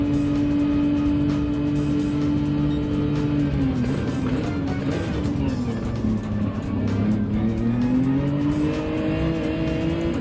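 Race car engines in Gran Turismo 7 during a daily online race, a loud sustained engine drone whose pitch dips and climbs through corners, with tire noise and other cars close by and faint talk underneath.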